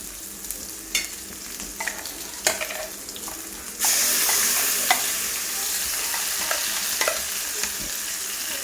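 Leftover masala goes into a pan after ginger-garlic paste for mutton curry. Scattered spoon scrapes and taps come first, then a loud burst of sizzling that keeps going under further stirring, close and with no talk.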